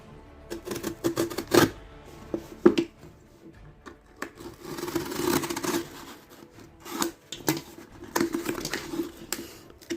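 A parcel of Transformers toys being opened by hand, with scattered rubbing, scraping and crinkling of cardboard and packaging in irregular bursts, close and moderately quiet.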